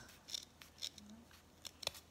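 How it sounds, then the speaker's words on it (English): Scissors snipping through folded ribbon at a folded edge while decorating a Christmas lantern, with a few quiet, separate crisp cuts spaced irregularly, close by and soft. "I take my scissors and I cut up to the corner"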